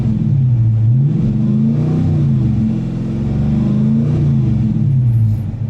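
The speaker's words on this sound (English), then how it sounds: "Here's what it sounds like when we start it up from the inside." Heard from inside the cabin, a Dodge Challenger R/T engine rumbles loudly and close, its deep note rising and falling through several revs with no one speaking.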